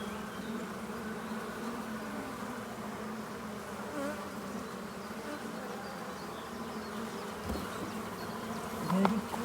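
Honeybees buzzing around an open hive at an apiary during a nuc-to-hive transfer, a dense continuous drone close by with a few brief handling knocks near the end.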